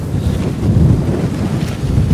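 Wind buffeting a microphone at a sub-zero winter camp while pitching a tent, a steady low rumbling roar filling the short stretch with no voices.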